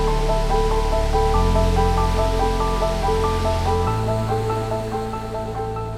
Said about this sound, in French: on est au Mexique, perdu au milieu de la jungle des Chiapas, sur une cascade absolument monstrueuse